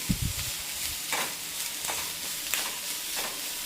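Long bean leaf thoran being stirred in a pan, with a few scraping strokes and a soft sizzle running steadily underneath, fairly quiet and close.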